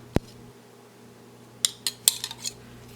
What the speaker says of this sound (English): this time, I never do this, but I want to stir once.